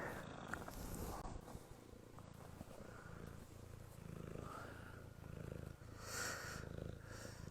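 A house cat purrs close by in a steady low rumble, running under quiet speech and small handling noises in an indoor room during a sashiko stitching session.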